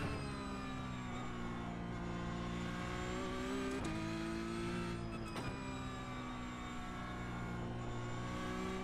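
Porsche 992 Cup race car engine in a sim racing game, a steady loud harmonic drone with smooth pitch shifts and two brief dips as gears change, continuous throughout with no talking.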